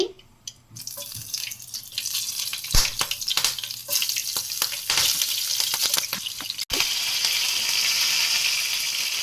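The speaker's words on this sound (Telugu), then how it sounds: "ఆయిల్ బాగా హీట్ ఎక్కింది ఇప్పుడు కొంచెం పోపు దినుసులు వేసుకున్నాం" Green chillies and tempering spices frying in hot oil in a pan for a crab curry, giving a steady, close sizzle with sharp crackles and pops, briefly interrupted by a clatter before the hiss swells louder.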